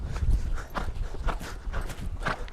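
A young horse being worked in colt training, its hooves clip-clopping in a steady, repeating rhythm at close range, with no talk over the footfalls.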